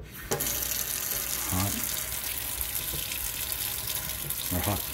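A kitchen sink faucet in a house on open view runs a steady stream of water, close and continuous across the whole stretch, with a few faint knocks and no talking.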